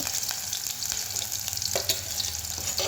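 Chopped ginger and garlic fry in hot oil with a bright, crackling sizzle, punctuated by a few sharp pops and stirring clicks near the end, close and steady without speech.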